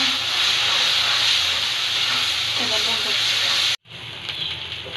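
Ground spices, including coriander, frying in a pan: a loud, dense, continuous sizzle that cuts out abruptly near the end, then resumes slightly softer.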